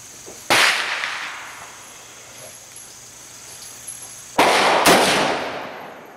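Two sharp rifle shots at an outdoor shooting range, fired several seconds apart, each a loud crack with a brief ringing decay, from a lineup that includes an M1A, an AR15 and a Marlin 15YN.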